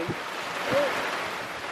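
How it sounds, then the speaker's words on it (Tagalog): Steady, roaring wash of heavy rain and gusting wind buffeting the microphone on an outdoor golf course, loud and continuous, with a brief voice rising through it. "Lakas ng ulan, lakas ng hangin."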